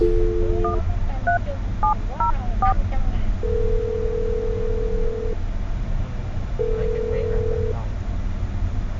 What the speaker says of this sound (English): I've got the phone number. I'm going to dial it